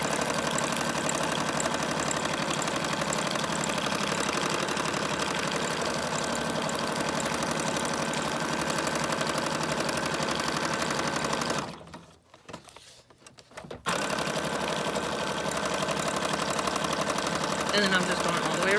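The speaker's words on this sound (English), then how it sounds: "And I'm just gonna zigzag all the way around it." Sewing machine running a zigzag stitch around a pocket of coffee-dyed marbled paper, a steady close mechanical whir that stops briefly about two-thirds through and then resumes.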